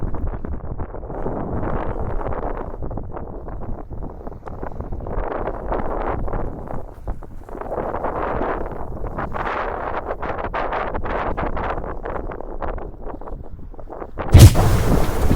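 Strong wind at sea buffets a sailing yacht heading close-hauled near Naxos, with apparent wind reaching 30 knots. It roars and rumbles in long, surging gusts over a steady low bed of sound, close and loud, and ends with a brief sharp burst.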